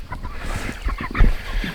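Five-week-old meat chickens in a backyard flock, a cluster of short overlapping clucks and honking calls, fairly close and moderately loud, with no talk over them.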